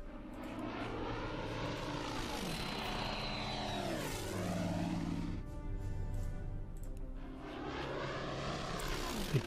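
A bomber aircraft droning overhead in a naval warfare video game, its propeller engines swelling and fading as it passes by. The loud, continuous hum shifts in pitch as the plane approaches and moves away, with no talk over it.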